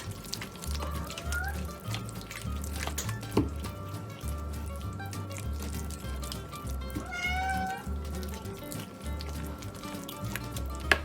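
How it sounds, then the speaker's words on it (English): A cat meows repeatedly in the background of a home kitchen where dog and cat sweet potato treats are being mixed, the cries rising over a steady low hum and faint clatter. "is in the background meowing, helping out with the narration"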